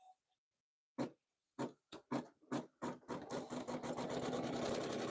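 An embroidery machine stitches an in-the-hoop appliqué step that holds batting in place. It starts with separate sharp bursts of needle strokes, then settles into a steady, close, continuous mechanical whir.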